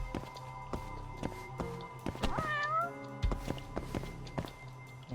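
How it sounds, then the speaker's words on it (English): A cat meows several times in the video game Judgment, including one drawn-out, rising and falling meow in the middle, set among game-world footsteps and soft thuds. "I heard a cat."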